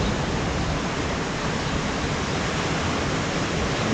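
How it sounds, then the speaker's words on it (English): Ocean waves rolling onto the shore at Sant Elm, Mallorca, in March, a dense, continuous roar of surf with no distinct breaks, steady and loud throughout. "Nice waves coming in, almost surf on there."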